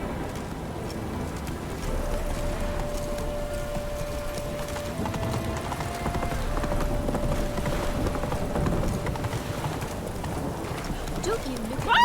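Hooves of Roach, the horse in The Witcher 3: Wild Hunt, clip-clopping in a steady galloping rhythm over game ambience, while characters speak over the hoofbeats.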